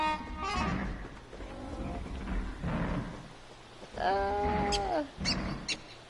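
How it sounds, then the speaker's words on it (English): Wolves snarl and growl in a PS4 game. The deep, menacing roars and growls come in bursts, and a louder, drawn-out growl arrives near the end. "They sound very mean. I think these are the wolves."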